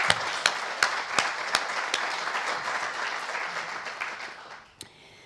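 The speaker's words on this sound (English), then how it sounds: "I want to offer you one more round of applause." An audience applauds steadily for about five seconds after remarks on conflict-related sexual violence, a dense close wash of clapping with a few sharp individual claps standing out, fading near the end.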